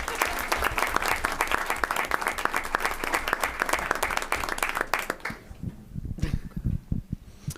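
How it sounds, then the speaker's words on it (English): A round of applause from the audience at a school board meeting, steady dense clapping for about five seconds before thinning into a few scattered claps. "let's get a round of applause anyways for Macy"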